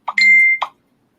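A mobile phone gives one short, bright notification chime, clear and close, made of a quick pop, a sustained tone and a closing blip.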